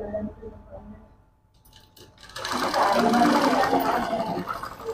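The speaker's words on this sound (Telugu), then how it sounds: "ఈ కాటన్ పీస్ని ఇలా డబుల్ కుట్టి కుడుతున్నాను" A sewing machine double-stitches a cotton piece onto piped fabric for a half saree blouse, its loud steady whirring starting after a quiet pause of about two seconds, with faint speech early on.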